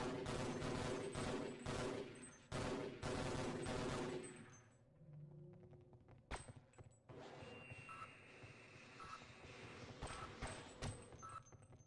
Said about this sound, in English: What turret is going off?